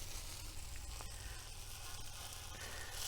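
Tofu sizzles in a very hot pan while browning, a steady crackling hiss that stays even and close throughout, with no speech.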